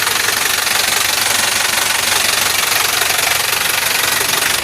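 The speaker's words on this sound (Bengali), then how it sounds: "দেখেন সাউন্ডটা কিন্তু খুবই সুন্দর আছে দেখেন এখনও কিন্তু জ্যাগের ইঞ্জিন লাগানো আছে" A 2019 JAC 14-foot truck engine idles loudly and close, a steady, even rumble with a fine, constant knocking rattle and no change in pace throughout.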